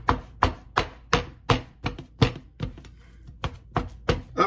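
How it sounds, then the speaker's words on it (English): A knife chops meat steadily on a cutting board, about a dozen sharp, evenly spaced strikes with a brief pause midway. "I'm gonna go ahead and start chopping my meat up"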